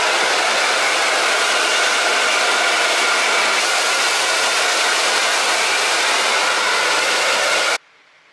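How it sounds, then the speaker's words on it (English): A hairdryer blasts on wet hair in a steady, loud, broadband whoosh that holds for nearly eight seconds, then cuts off abruptly. "I honestly might just blast it with the hairdryer"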